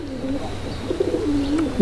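A Raj Golla pigeon coos nearby in soft repeated throaty bursts while someone talks over it.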